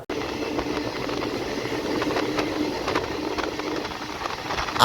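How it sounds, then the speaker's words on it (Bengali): Doon Express passenger train running just after leaving Bardhaman Junction, heard from inside as a continuous rolling rumble with faint rhythmic rail clicks, steady and moderately loud. "এই মাত্র কিন্তু বর্ধমান জাংশন থেকে আমাদের ট্রেন ছেড়ে দিল"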